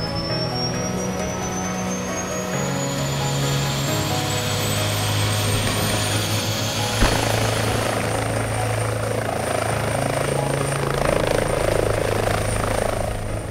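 An air ambulance helicopter runs close by, its rotor and turbine producing a loud, steady throbbing drone with a rising high whine, continuous throughout with no talking.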